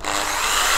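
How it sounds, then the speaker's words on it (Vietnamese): A 100V 350W electric reciprocating saw runs in a short, steady, close burst of harsh motor whine and buzzing, with no voices. "Cái cây số 2 là một cây cưa kiếm"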